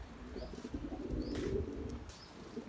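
Pigeons cooing inside a coop with young birds, low soft coos rolling steadily through the whole stretch, with a few faint chirps and brief wing flutters on top.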